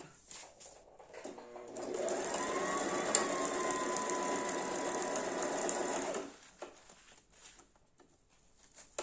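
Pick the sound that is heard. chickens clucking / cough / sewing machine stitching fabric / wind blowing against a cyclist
sewing machine stitching fabric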